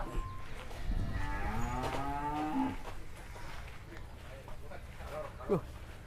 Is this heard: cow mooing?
yes